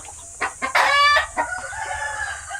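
Close, loud clucking and a short crowing squawk from chickens near Taal Lake in Batangas, a few sharp calls within about two seconds over quiet background.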